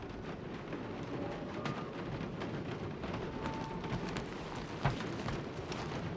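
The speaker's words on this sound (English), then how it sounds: "Of course, it had to be raining." Rain falling in the video game Marvel's Guardians of the Galaxy, a steady quiet hiss of rainfall with a soft low rumble beneath, faint and continuous with one brief thump near the end.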